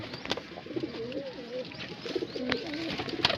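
A pet pigeon hen in Bareilly coos softly in soft rolling phrases, two throaty coo sequences against faint background noise and scattered clicks, with no talking over them.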